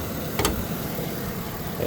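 A 6-liter V8 in a 2015 Chevy Express 2500 van idles steadily and quietly with the hood up, a smooth low rumble with a brief click near the start.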